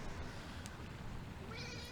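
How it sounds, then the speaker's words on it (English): A cat meows close into a microphone, a short faint rising cry near the end of a quiet stretch of low room noise. "Meowing into the mic."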